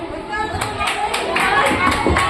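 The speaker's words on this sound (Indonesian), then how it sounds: "tepuk tangan buat Mas Arzan" Audience at a Quran school graduation ceremony clapping in a fairly even rhythm, the claps rising over a steady murmur of crowd chatter.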